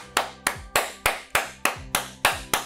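Two hands clap hard nine times in a steady, even rhythm. Each clap is sharp, close and loud, with a short ring after it.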